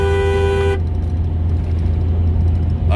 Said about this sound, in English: Should give him a honk.